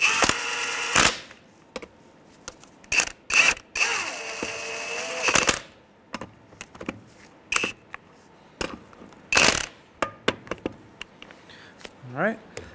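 A ratchet turning a 19 mm socket to snug the front brake hose bolts on a 2003-2011 Honda Element, with short bursts of quick clicking separated by pauses, close up, and a few faint metallic knocks.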